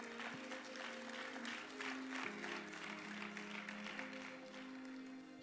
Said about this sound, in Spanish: Le dan un fuerte aplauso al Señor.